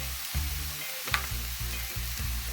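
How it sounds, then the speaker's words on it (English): Vegetables seasoned with garlic powder, black pepper and salt are tossed into hot oil and garlic, making a loud, continuous sizzle with rhythmic stirring scrapes and a bright clink about halfway through. "you just toss everything into the oil and garlic"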